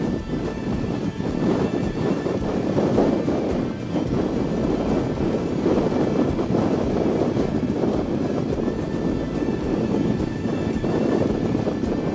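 Strong wind roars steadily into the microphone on the Dempster Highway, buffeting in gusts with a dense low rumble and no talking.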